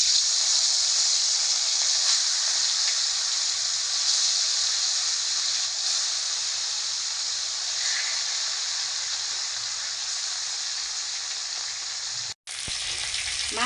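Bhola fish hits hot mustard oil in a kadai, giving a loud, steady, close sizzle and hiss that holds evenly throughout with no talking.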